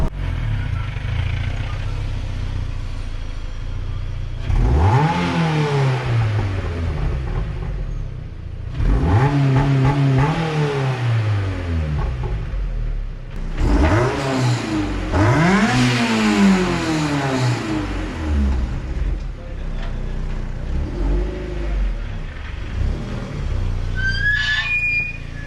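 Repeated rev bursts from a Mazda NC Miata engine fitted with a Racing Beat mid-pipe, each climbing and falling in pitch, with about four loud pulls and an idling rumble between them.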